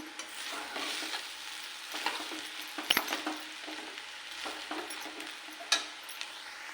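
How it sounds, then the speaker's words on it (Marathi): Food being stirred in a pan over a gas flame, a soft continuous sizzle with irregular spoon scrapes and a couple of sharp metal taps against the pan, quiet and close, without speech. "हे चांगलं हलवून घेऊ आपण"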